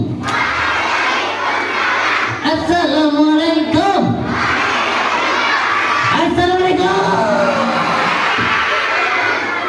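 A crowd of children at a Maulid Nabi celebration loudly shouting a religious greeting in unison, two long sustained bursts of massed young voices over a noisy hall.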